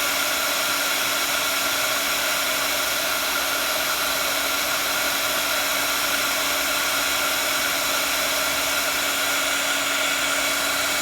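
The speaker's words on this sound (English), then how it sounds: "Then we're just going to melt the embossing powder." A heat tool blows steadily to melt embossing powder on a Christmas tag, a constant loud hair-dryer-like whoosh with a steady whine that runs unbroken throughout.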